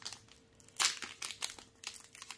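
Plastic packaging on a Magic: The Gathering Dominaria United commander deck is crinkled and torn open in a few quick, close rustling bursts, fairly quiet, with no talk.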